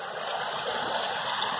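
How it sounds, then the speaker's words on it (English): Storm water running backwards into a gully off neighborhood surfaces, a steady close rushing and trickling flow with no pauses. "the water coming off of the surface of the neighborhood, and it's actually going backwards in reverse into the gully"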